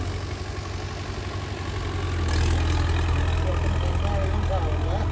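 A 23-gear tractor engine idles with a steady low, droning hum that swells slightly louder midway, heard close with no talking.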